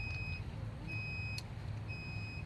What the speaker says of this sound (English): it just shuts the circuit off. Beep, beep, beep.